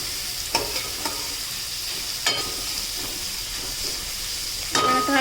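Chopped onion frying in hot oil with garlic in a pan for a spicy Konkan-style dry field-bean curry, a steady close sizzle with occasional sharp clinks of a spoon stirring, no voices.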